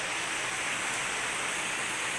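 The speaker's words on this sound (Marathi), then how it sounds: "अचानकपणे पाऊस चालू झाला आहे." Sudden heavy rain falls outside, a dense, steady hiss of broadband noise with no breaks or voices, fairly close and uniform.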